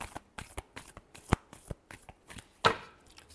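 Tarot cards being shuffled by hand, a quick run of papery riffles and slaps with a couple of sharper snaps, close and alone with no talk.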